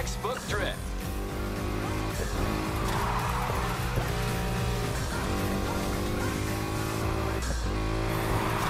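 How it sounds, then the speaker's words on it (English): A Mustang GT drifts in Need for Speed Heat, its engine roaring steadily as the tires squeal through the slide, loud and close beneath a voice speaking over the action. "Textbook drift."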